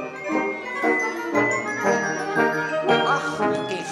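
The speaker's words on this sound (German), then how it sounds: "die gute Laune, die kommt vor allem von dem Glockenspiel da hinten" Orchestral music from the Munich Philharmonic in which bright, ringing glockenspiel notes stand out in a lively repeated pattern over the ensemble.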